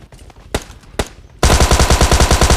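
Gunfire in the PUBG Lite battle royale game: two sharp isolated shots, then a loud rapid burst of automatic fire hammering in a steady rhythm for about a second, close and dominant.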